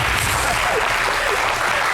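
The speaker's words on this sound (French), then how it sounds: "On applaudit pour Serge Ibero, s'il vous plaît." A crowd at a French-speaking event applauds for a named guest in a loud, steady roar of clapping that fills the whole stretch, with faint murmuring underneath.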